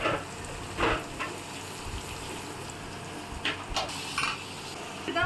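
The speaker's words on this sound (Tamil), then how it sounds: "அதையும் போட்டு வதக்கிக்கலாம்" Finely chopped onions sauté in oil with spices, giving a quiet, steady sizzle. A few scraping stirs and pan knocks rise briefly above it.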